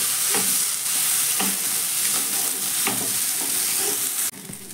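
Egg filling with tomato sauce being stirred in a frying pan: a loud, steady sizzle runs throughout, punctuated by repeated spatula scrapes and taps, then drops off abruptly near the end, with no talking.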